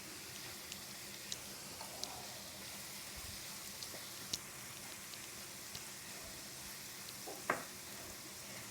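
Pumpkin halwa cooking in a regular pan, a faint steady sizzle and bubbling with occasional light ticks and clinks, no talking.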